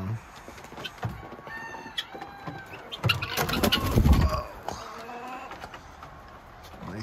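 Chickens in a coop on a February day in Vermont cluck and chatter in short bursts that build to a busier flurry midway, with a person speaking nearby.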